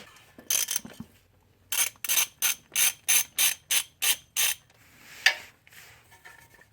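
A ratchet fitted with a 14mm long socket clicks through a run of about nine quick, evenly spaced bursts while loosening cylinder head bolts on a 1990-1999 Toyota Tarago/Previa 2TZ-FE with a blown head gasket, close up with no talking.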